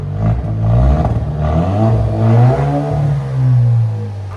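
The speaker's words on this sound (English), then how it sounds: "There is a rev limiter on it, guys, so we can't really rev it high. Rev it hard. That's the most we can rev it." A 2019 Alfa Romeo Giulia with a 2.0L turbo engine and a muffler-delete exhaust revs loud and close against its rev limiter, the engine note rising and holding in several surges.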